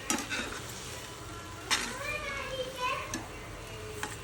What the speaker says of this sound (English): Mix it gently.